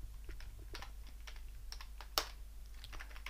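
Keys clatter in quick irregular bursts as code is typed on a computer keyboard, close and fairly quiet over a low steady hum, with one sharper keystroke standing out.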